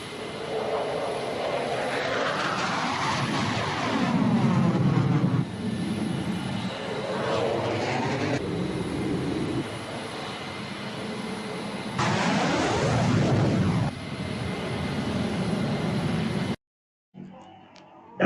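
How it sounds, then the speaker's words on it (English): A fighter jet roars overhead as a sustained, loud, rushing engine noise with a sweeping rise and fall in pitch over many seconds, then cuts off abruptly near the end. "That's the fighter jet right there."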